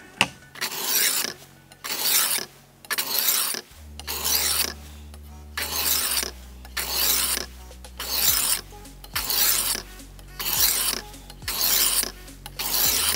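A knife blade is pushed in repeated strokes across a diamond sharpening plate on a pivoting sharpener, making about ten even, rhythmic rasping scrapes with short pauses between them, close and clear, with no voices.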